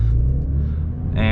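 A 2021 Porsche 992 Turbo S in sport mode gives a loud, close, low engine rumble that holds steady through the clip, with a brief brighter rise near the end.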